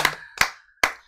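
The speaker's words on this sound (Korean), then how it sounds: "자 박수 한번 주세요." Three sharp, separate hand claps ring out close by in an otherwise quiet room at a political party gathering, evenly spaced about 0.4 seconds apart.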